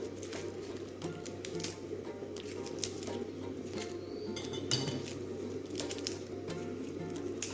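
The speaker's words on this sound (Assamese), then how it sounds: "মাছৰ তৰকাৰী দিবলৈ সেইকাৰণে মছলাখিনি কাটি লওঁ" A knife chops spices for an Assamese fish curry, making quiet, irregular taps and clinks on a board in a kitchen, faint and close with no speech.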